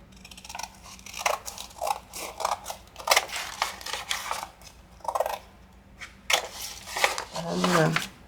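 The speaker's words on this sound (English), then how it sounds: "We're going to cut this side." Scissors cut through a paper envelope in a series of short, crisp snips spaced irregularly, close and clear, with some rustling of paper between cuts.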